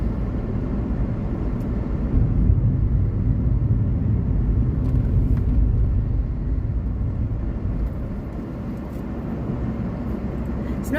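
A car driving along country roads between villages, a steady low engine and road rumble that stays loud and continuous throughout, with no talk.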